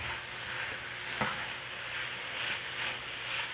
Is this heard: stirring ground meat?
yes